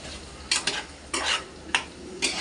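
Goat tripe fries in a pan, a continuous low sizzle cut by a few bright scraping stirs and clinks of a spatula against the metal, heard up close with no voices.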